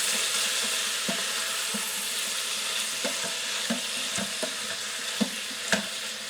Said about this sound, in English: it says to add the sausage, onions, and celery. Well, in my case, I don't have celery, so I added that. And we're going to saute this for a few minutes.